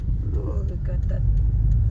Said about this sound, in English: The car is having a hard time going that way.